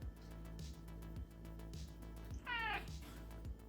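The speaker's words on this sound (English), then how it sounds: "progress has been halted by an attention-seeking cat" An attention-seeking house cat lets out a clear, close meow over a rhythmic background hum with a low thumping pulse, with fainter cries earlier in the moment.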